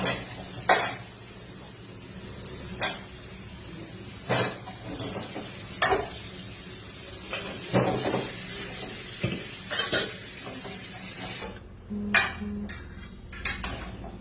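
Small tomatoes are stirred in oil in a pan with onions, giving repeated sharp clanks of a spoon against the metal over a soft, constant sizzle, roughly every second or two.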